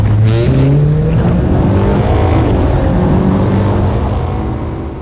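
An F4 race car departs on the Paul Ricard circuit at a track opening, its engine loud and close with rising revs and gear-change steps throughout, fading slightly at the end.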